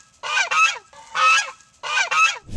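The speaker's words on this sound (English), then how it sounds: "the goose switched to protection mode and charged the dog" A protective goose honks loudly and close by, giving five harsh, nasal calls in three quick bursts, mostly in pairs, while charging at a dog, with no talk over it.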